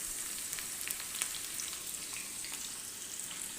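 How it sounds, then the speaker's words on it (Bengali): Onion fries in a pan with a soft, continuous sizzle scattered with tiny crackles, close but fairly quiet, and no one talks. "দিয়ে দিচ্ছি পেঁয়াজ।"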